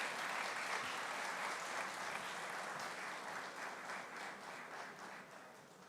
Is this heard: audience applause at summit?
yes